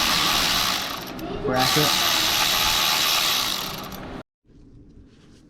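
A ratchet works on a 12 mm bolt holding the alternator of a 2012 Honda Accord, giving a sustained clicking, grinding run of several seconds at close range, with someone speaking briefly over it.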